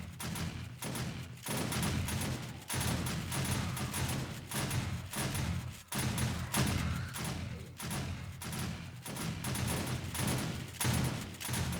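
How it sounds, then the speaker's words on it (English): A shotgun turret in the game 7 Days to Die fires repeatedly, giving a steady run of heavy blasts spaced about a second apart over a busy, noisy background. "That shotgun turret got me."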